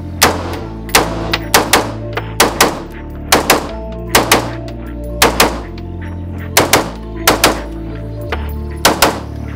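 Sharp, loud gunshots from an AR-style rifle chambered in 5.56 with a red dot optic, about twenty shots fired in quick irregular bursts and pairs, each a hard crack with a short outdoor tail, no talking.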